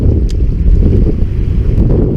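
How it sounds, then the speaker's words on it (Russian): Strong wind buffeting a microphone on a fishing boat out on the water, a loud, steady low roar with gusty rumbling and no voices. "Ветер так и не думает утихать."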